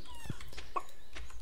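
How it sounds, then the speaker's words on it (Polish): Chickens cluck in the farming video game Stardew Valley, with two or three short, faint calls over a steady background of game ambience. "kury! Proszę!"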